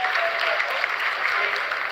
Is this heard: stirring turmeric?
no